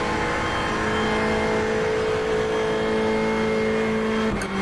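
Race car engine in the iRacing sim at the Nurburgring, a loud steady high-revving drone held near flat out, then a sudden shift or lift near the end, with no talk over it.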